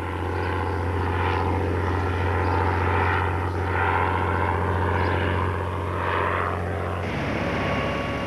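A Bristol Fighter biplane, a First World War-era propeller fighter, flies with a loud, steady engine drone and a low throbbing hum that rises and falls slightly before the tone shifts near the end.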